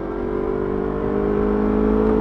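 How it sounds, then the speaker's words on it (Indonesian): A Yamaha R25 sport motorcycle engine hums steadily close by, its throaty exhaust tone holding even and swelling slightly toward the end, with no talking. "Pakai knalpot FU juga enak loh suaranya."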